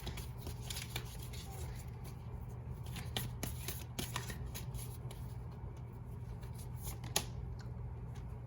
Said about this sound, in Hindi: मैं इतने ज्यादा शफल कर रही हूँ आपके सामने